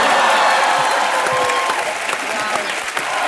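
Studio audience of a Hindi comedy talk show, Comedy Nights With Kapil, breaking into loud, sustained applause and cheering as a guest arrives, dense clapping filling the whole stretch without pause.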